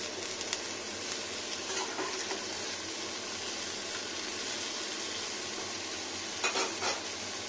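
Broccoli with carrots, capsicum, onion and garlic fries in butter in a pan while being stirred, a steady soft sizzle running throughout with occasional scraping strokes, close and fairly quiet.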